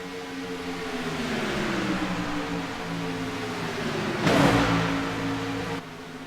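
Stock cars in an Xfinity Series race roar past in a pack, a sustained rising engine drone with shifting pitch that swells into a loud close pass, then drops back abruptly, with no talk.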